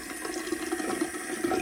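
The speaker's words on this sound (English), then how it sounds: "We did leave the water on" Tap water running steadily indoors, a continuous close hiss and splash with no pauses, in a house with no talk over it.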